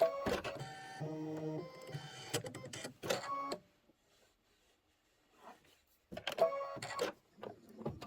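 An embroidery machine stitches a pillow block in bursts of rapid mechanical whirring and buzzing, stopping for a quiet pause before starting up again, loud and close with no voices.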